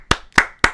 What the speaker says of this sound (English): golf clap, that trooper, that lady